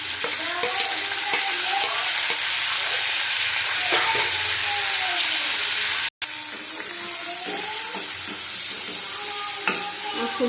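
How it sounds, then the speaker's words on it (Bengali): Chopped onion fries in a pan under a loud, dense hiss, with frequent clinks and scrapes of a stirring utensil and a momentary cutout midway, close and unbroken by speech. "পুড়িয়ে নিয়েছি পেঁয়াজটা।"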